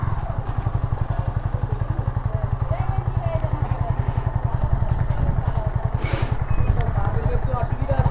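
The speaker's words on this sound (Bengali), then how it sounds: "কাকা এখন বাইক চালাচ্ছে" A motorcycle ridden on a test drive, its engine thumping steadily and close the whole time while people talk over it.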